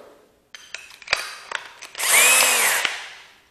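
A power drill fitted with a paddle bit gives a few close clicks and short bursts, then whirs steadily for about a second before winding down. No one speaks.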